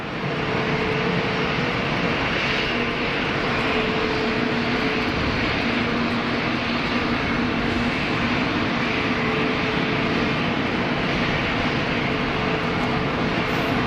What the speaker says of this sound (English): Oh, look, it's another EasyJet.